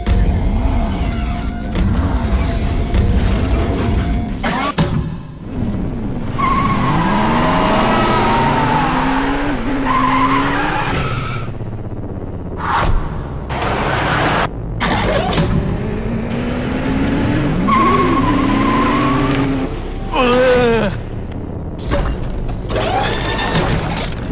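A Peugeot 308 THP turbo car is driven hard, its engine revving up and falling away repeatedly through the gears, loud and close, with a high squeal near the start.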